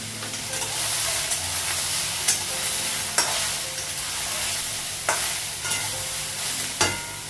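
Food frying in a pan on a gas stove, seasoned with salt, nigella seeds and whole spices in oil, with a steady close sizzle and scraping stir strokes that land every second or two.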